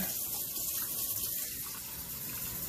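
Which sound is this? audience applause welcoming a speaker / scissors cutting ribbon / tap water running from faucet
tap water running from faucet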